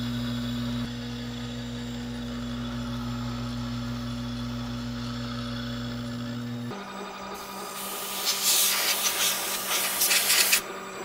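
End mill on a benchtop mill/drill cutting under power feed at roughly double the recommended rate on a very light pass; a steady motor hum, then a louder, rough scraping cut toward the end, with no talk.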